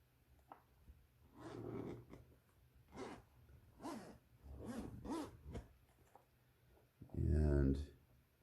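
A zipper is pulled in several short, rasping bursts at close range, ending in a louder, longer zip.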